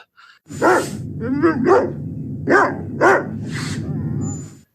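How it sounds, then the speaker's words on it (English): An Irish setter barks several times nearby, loud irregular woofs with a few higher yelps mixed in, no talking. "It's an Irish setter barking, but not just any Irish setter."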